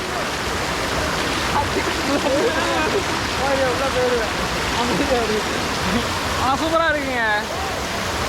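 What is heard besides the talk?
Kovai Kutralam waterfall rushing water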